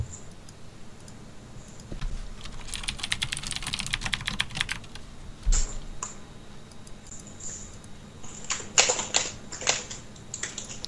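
Typing on a Das Keyboard mechanical computer keyboard: steady bursts of clicky keystrokes, a dense run early on and a few sharper clusters later, fairly close and alone with no talk.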